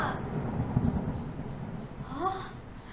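Thunder sound effect heralding rain: a low, muffled rumble rolls in the first second, followed by a faint rising whistle-like sweep near the end, with no talk over it.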